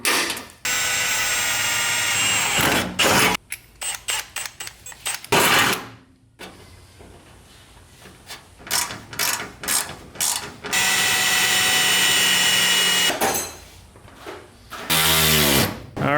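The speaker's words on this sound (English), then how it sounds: "So we just got to drill the holes for that." A power drill bores holes to mount a body kit bumper on a Mazda RX-7 in a garage, the whirring bursts starting and stopping repeatedly, loud and close, with short pauses between runs.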